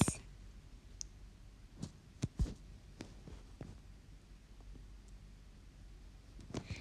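Fingers tap out a message on a phone screen, sparse light clicks landing at irregular intervals, some close and sharper, over a quiet low room hum with no talking.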